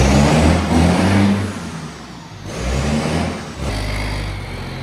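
A Lamborghini tractor engine running with its exhaust removed, loud and close, rising and falling through rough revving bursts with a deep, raw rumble and a brief dip in the middle.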